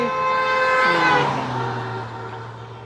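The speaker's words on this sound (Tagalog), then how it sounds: "Pati yata mga motor kasali." A motorcycle in a Luzon Loop ride rolls past, its loud engine tone sliding down in pitch as it nears and moves away, then fading to a lower steady drone.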